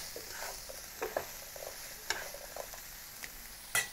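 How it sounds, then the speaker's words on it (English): Chinese broccoli (gai lan) being stir-fried with ginger and garlic, a soft continuous sizzle punctuated by scraping tosses and a few spatula clinks against the pan, close and fairly quiet, without talk. "add the broccoli. And mix well with the ginger and garlic."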